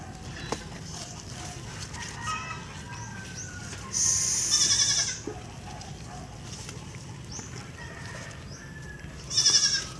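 A goat bleats twice in an outdoor yard, a loud nearby call midway and another at the end, over quiet rustling background.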